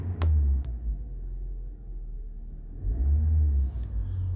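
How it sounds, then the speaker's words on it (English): A car engine starts with a short cranking burst, then settles into a low, steady idle rumble that swells again near the end, close and fairly loud, with no talking. "I'll go ahead and start the car"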